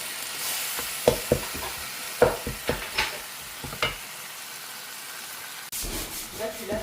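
Onions sauté in a pan for a biryani with a soft, quiet sizzle, broken by a series of sharp scraping stirs of a spoon against the pan, then a denser burst of frying near the end.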